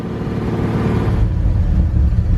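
A forgotten Chevy C10 barn-find truck idling after its first start in years, a loud, close, steady engine rumble whose tone drops and deepens partway through, with no talk.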